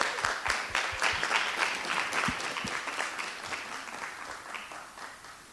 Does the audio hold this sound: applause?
yes